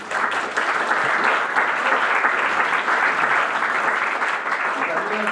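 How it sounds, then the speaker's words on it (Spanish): Sustained audience applause fills the room, many hands clapping in a steady, dense wash for about five seconds at a fairly strong, even level. "Aquí les pido un gran aplauso"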